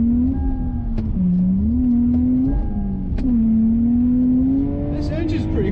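A Lexus IS200 engine drones and revs steadily while drifting, pitch rising and falling with throttle changes, with sharp knocks and clicks in between and a driver talking over it.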